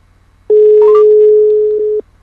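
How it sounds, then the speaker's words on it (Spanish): A mobile phone call tone sounds as a single steady, loud electronic beep lasting about a second and a half, with a brief faint chirp near its start, in an otherwise quiet room. "Ahí está llamando."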